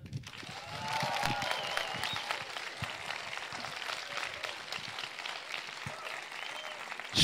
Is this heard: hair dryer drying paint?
no